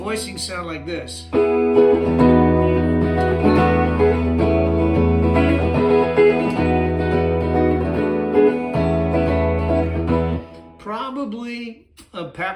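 An electric rock guitar strums a series of ringing chord voicings over an open low E, such as a 6/9 shape over E, in sustained sections with short breaks between them, and someone talks briefly before and after.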